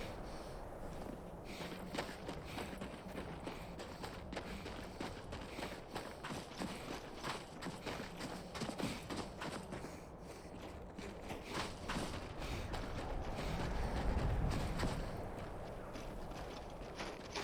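Horse hooves clip-clop steadily in a video game, with a continuous run of hoofbeats at moderate loudness over a busy game ambience, swelling slightly near the end.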